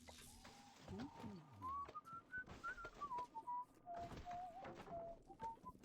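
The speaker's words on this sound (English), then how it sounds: "Is it the TV that's whistling?" Whistling from a TV in the game BioShock Remastered, a wavering melodic tune that rises and falls across several phrases, heard under thumps, combat clatter and someone talking.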